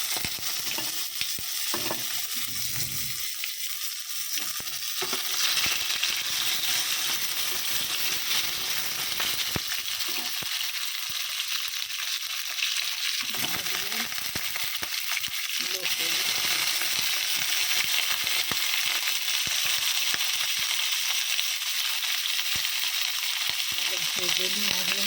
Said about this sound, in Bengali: ভেজে নিই মাশরুমটা